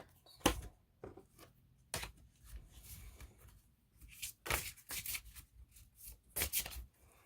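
Oracle cards are shuffled and pulled from a deck in several quick, crisp riffling bursts separated by short pauses, close and fairly quiet, with no speech.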